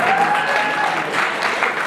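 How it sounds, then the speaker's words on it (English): Audience at a 2015 health expert panel convention applauding as a panelist comes up, a steady dense wash of clapping held at an even level throughout, with faint crowd murmur and tonal background underneath. "please help me give her a round of applause as she comes up"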